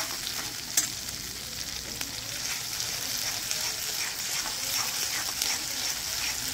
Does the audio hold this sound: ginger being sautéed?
yes